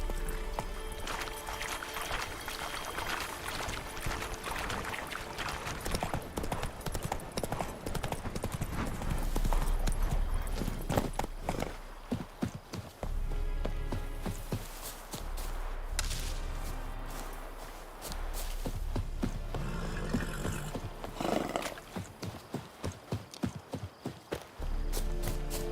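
Hooves clip-clop rapidly in a galloping rhythm in a video game, mixed with whip cracks, whinnies and other game effects, with occasional voice sounds over the top.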